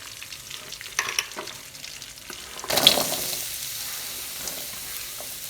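Three large onions sautéing on low flame for butter chicken: a quiet sizzle with scattered stirring clicks, then a louder burst of frying hiss that slowly settles into a steady, softer crackle.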